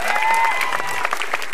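Audience applause at a televised stand-up comedy show, a loud, dense wash of clapping with a tonal whistle or music line riding over it.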